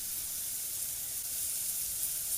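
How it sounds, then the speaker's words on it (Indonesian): Steady, crackling sizzle of ground spice paste frying in a hot pan, continuous and close, with no voices. "Masukkan bumbu halus dan tumis sampai harum."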